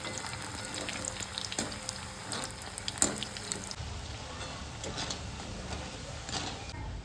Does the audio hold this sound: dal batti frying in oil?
yes